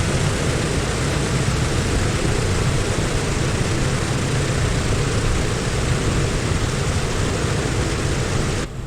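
A DC-6 propeller airliner taxiing in the Microsoft Flight simulator, a steady, loud engine drone with broad roaring noise that holds constant throughout before cutting off abruptly at the end.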